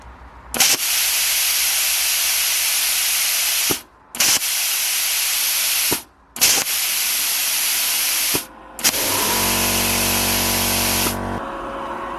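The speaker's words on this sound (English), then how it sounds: "Can I cut it with this plasma cutter?" A 55-amp plasma cutter running on 5 bar of air cuts through 10 mm steel sheet, giving loud, close, rushing hisses in three long bursts separated by short pauses, then a final burst with a deeper rumble and hum.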